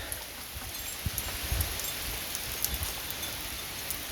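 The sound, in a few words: rain falling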